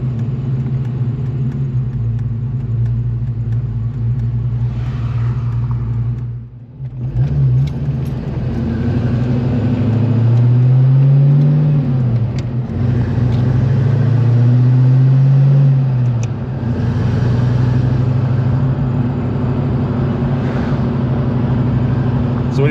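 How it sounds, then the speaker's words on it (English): Car with a worn throw-out bearing drives along with a steady, loud engine rumble and drivetrain drone, rising and falling as it accelerates and shifts, with a brief drop in noise partway through. "It's my throw-out bearing."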